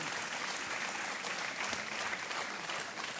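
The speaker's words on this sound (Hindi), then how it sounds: "और तालियां बजती रहनी चाहिए देवी और सज्जनों।" Studio audience applause on the Hindi quiz show Kaun Banega Crorepati, a dense, steady clapping that holds at an even level for a few seconds with no voices over it.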